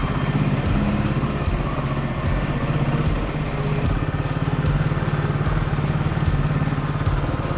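A motorcycle rides over cobblestones in a Melbourne laneway, its engine a loud steady close throb with a rapid rhythmic pulsing from the uneven stones, continuous throughout.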